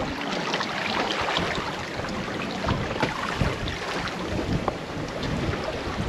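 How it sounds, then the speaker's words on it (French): Boat rocked by waves while sailing in the dark: continuous splashing and sloshing water against the hull with gusty wind noise, close and steady, no speech. "On se fait bercer par les vagues."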